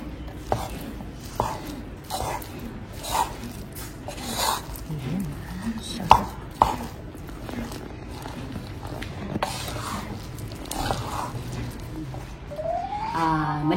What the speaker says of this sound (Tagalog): Haluin natin yung sushi vinegar sa ating rice.